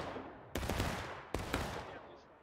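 Two sharp musket volleys crack out in War of Rights, a Civil War video game, each a loud burst with a short rolling tail, spaced less than a second apart.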